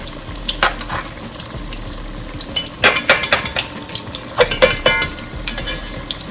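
Small cut cassava bammies fry in very hot oil, a steady sizzle broken by sharp crackling bursts and light utensil clinks, close and fairly loud with no talk.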